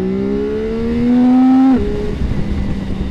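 A CFMoto 675 NK three-cylinder motorcycle engine revs up steadily, then the pitch drops sharply as it shifts into second gear, loud and close with no talk.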